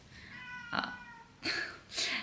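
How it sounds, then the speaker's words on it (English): A pet cat meows several times indoors during a quiet study session, one shorter call followed by two louder, drawn-out meows close by, alone with no talk. "you can hear our cat"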